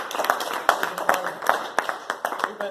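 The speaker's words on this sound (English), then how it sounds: "Can you give her a round of applause?" Scattered audience clapping at a university speech event, a modest number of hands producing distinct, uneven claps that stay fairly close and light, with faint voices underneath.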